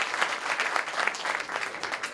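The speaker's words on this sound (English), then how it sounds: "Let's give him a big round of applause." An audience at a Sheva Brochos wedding celebration in Borough Park claps in a dense, lively burst of applause that holds steady for a couple of seconds, close and fairly loud with no talk over it.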